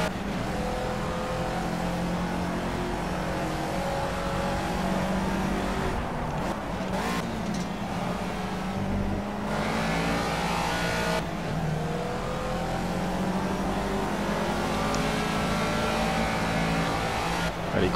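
A race car engine in the Project Cars racing game roars continuously at high revs, loud and close, with brief dips and gear-shift breaks near the middle before climbing again.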